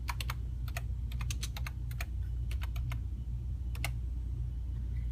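Quick, light keystrokes on a computer keyboard type a friend's name into a search field, coming in short bursts of clicks over a low, steady room hum.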